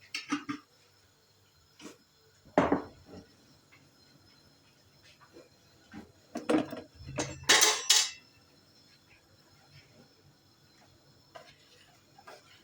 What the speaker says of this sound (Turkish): Ara ara karıştıralım dibini tutmasın.